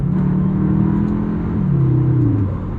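Cupra Formentor VZ2 accelerating hard with quick gear changes, a loud steady engine drone rising in pitch, then dropping sharply at each shift before climbing again.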